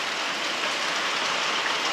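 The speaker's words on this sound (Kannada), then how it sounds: "ಬಟ್ ಆದರೂ ಕಂಟಿನ್ಯೂಸ್ ಇದೆ ಮಳೆ" Continuous rain falls around a homestay in Agumbe, Shivamogga, as a steady, even hiss with no pauses and no voices.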